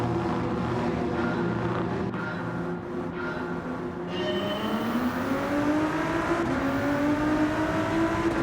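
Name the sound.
Ford GT race car starting race, video game Gran Turismo 7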